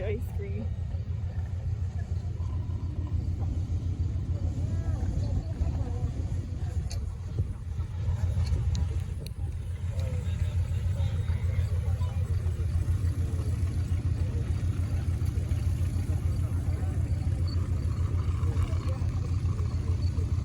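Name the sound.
World War II Canadian signals Jeep driving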